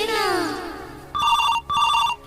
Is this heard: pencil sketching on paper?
no